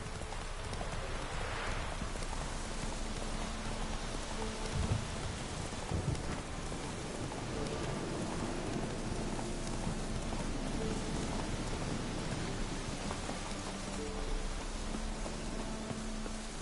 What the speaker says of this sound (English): Bit of a shame it's raining, but whatever.